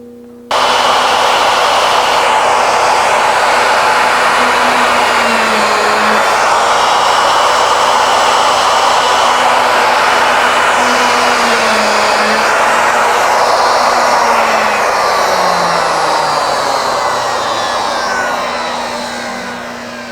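Router plunging rows of holes into wood for a flag box, a loud steady high-pitched whine with slight pitch dips as the bit bites, running continuously close by and trailing off at the end.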